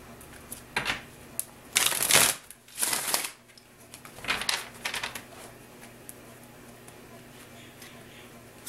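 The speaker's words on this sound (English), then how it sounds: "Now let's get into the tarot cards and get more detail." Tarot cards are shuffled in several quick riffling bursts, close and fairly quiet, with pauses between them and faint handling noises afterward.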